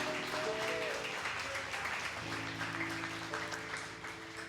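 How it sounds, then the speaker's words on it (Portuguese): Church congregation clapping during a festival worship service, a faint, even wash of applause under a steady low tonal hum from instruments or a keyboard. "Quantos aplaudem a Jesus nesse momento?"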